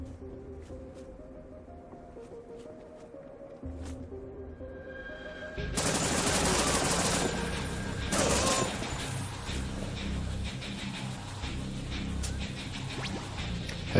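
Gunfire in a first-person shooter game built in Unreal Engine 4, quiet ambience giving way to a loud sustained volley of rapid shots and rumbling impacts that continues to the end over a bed of game music.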